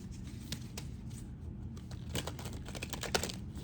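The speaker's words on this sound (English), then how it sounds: "Let me give it like 2 or 3 good shuffles for the Cancer signs." Tarot cards are shuffled close by, a run of soft riffling, flicking and rustling taps in quick irregular bursts, fairly quiet and without talk.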